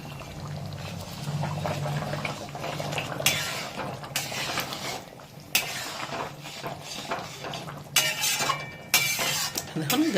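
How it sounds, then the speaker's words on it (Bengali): Hot water poured into a pan of chicken curry cooking over a high gas flame, a steady pouring wash broken by several sharp clinks and knocks of utensils against the pan. "আর এবার দিয়ে দিচ্ছে এতে জল।"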